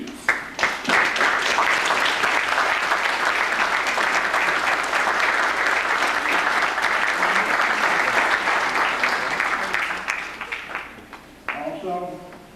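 Loud, steady applause from an audience at a Jewish community event fills the room for about ten seconds, then fades into scattered claps before a voice begins speaking.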